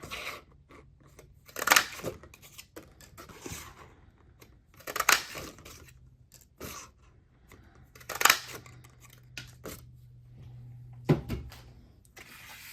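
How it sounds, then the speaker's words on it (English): A paper punch stamps out tabs for a papercraft folio made from one 12x12 sheet, giving four separate sharp crunching snaps spaced a few seconds apart, close and clear, with light paper handling and rustling between them. "Let me punch those out."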